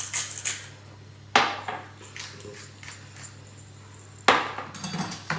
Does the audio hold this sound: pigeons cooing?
no